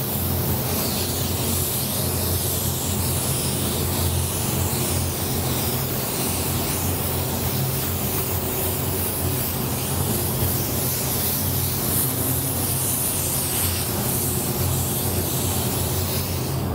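Steady, continuous hiss of a spray gun laying a coat of paint onto powder coated wheels, close and even throughout with no breaks or voices.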